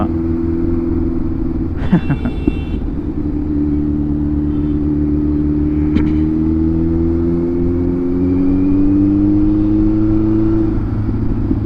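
Kawasaki sport motorcycle engine running loud and close, steady rumble with a brief rev near the start and a rising rev building toward the end; faint talk underneath.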